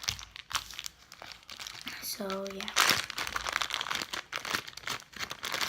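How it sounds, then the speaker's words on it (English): Plastic bag holding slime crinkles and rustles in close handling, a steady crackly texture running throughout beneath a person's talking. "I'm going to do this slime, which is in a plastic bag."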